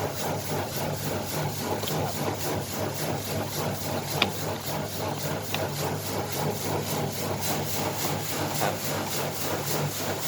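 An upgraded brown rice sorting machine runs with a steady mechanical hum and hiss, broken by a few faint clicks and rattles, continuous and fairly close, with no talk.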